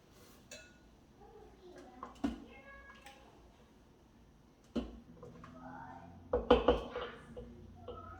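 A spoon clinks and scrapes against a pot of simmering canjica (mungunzá) made with coconut, giving a few scattered metallic knocks that cluster near the end over quiet background.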